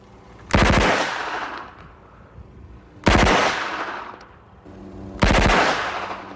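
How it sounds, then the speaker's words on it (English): An MP5 submachine gun, fed from two 30-round magazines clamped side by side, fires three separate short bursts, each a loud, fast triple crack with a booming tail. Quiet gaps of about two seconds fall between the bursts. "I will load two 30-round magazines that are side by side in a magazine clamp, and I will fire two 3-round bursts initially."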